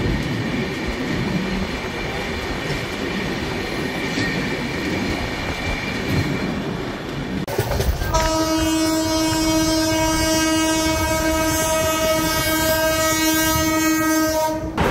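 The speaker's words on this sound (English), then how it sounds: "here the train has picked up a little bit of speed" The 12101 Jnaneswari Express passenger train rumbles steadily along the tracks at speed, then a loud, sustained multi-tone horn blares close by over the continuing roar of the wagons.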